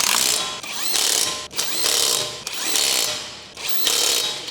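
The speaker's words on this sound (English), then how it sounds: "Let's use the 19mm socket with the impact wrench to tighten the lug nuts." An impact wrench fitted with a 19mm socket tightens lug nuts on a 2012-2016 Chevrolet Cruze, firing four loud, close hammering bursts separated by short pauses.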